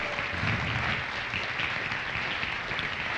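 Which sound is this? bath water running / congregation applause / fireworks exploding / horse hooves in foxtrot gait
congregation applause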